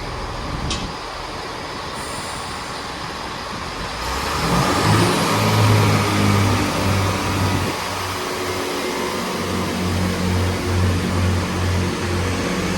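Class 166 Turbo diesel train departing Dawlish station, engine rumble building into a deep throbbing roar as it pulls away, with steady wheel and track noise, close and loud.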